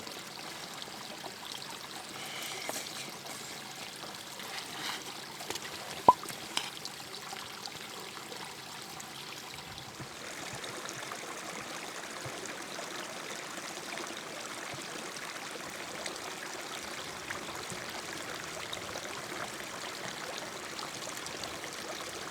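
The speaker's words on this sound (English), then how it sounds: "We are going to camp right here by the creek" Creek water flows beside a backcountry camp on a high-country mule deer hunt, a steady moderate rushing and trickling that continues throughout with a few small knocks early on.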